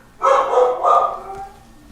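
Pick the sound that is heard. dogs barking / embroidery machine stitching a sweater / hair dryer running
dogs barking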